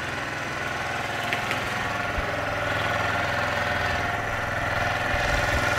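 A moped engine idles steadily and close by, with a constant buzzing, slightly knocking hum and no talking.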